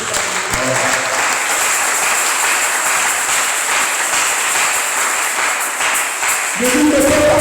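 A church congregation applauds through a Sunday service, steady dense clapping filling the room from start to finish, with brief voices rising near the end.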